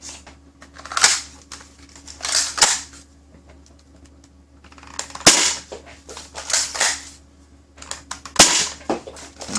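A modded Adventure Force Brute Pro foam dart blaster fitted with a Worker barrel fires in quick bursts of sharp, close snapping shots separated by short pauses, with mechanical clicks in between.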